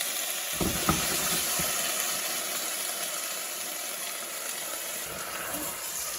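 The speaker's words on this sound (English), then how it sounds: "So now we're gonna add in our pureed tomatoes." Twelve ounces of pureed tomatoes go into a simmering butter chicken pan on the stove, giving a steady soft sizzle with a brief louder splash near the start.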